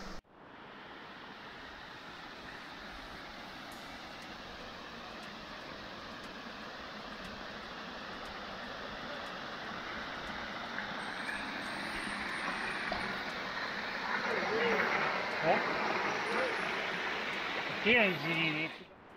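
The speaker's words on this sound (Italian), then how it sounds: "questa è la cascata sul torrente Re di Valle" Waterfall on the Re di Valle stream in Bagnone, a broad steady rush of falling water that grows louder toward the end, with faint voices near the finish.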